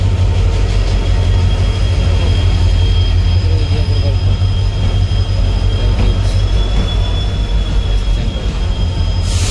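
A passenger train travelling in Andhra Pradesh rumbles along loudly and steadily from inside, with a heavy low-frequency roar and faint metallic whines throughout.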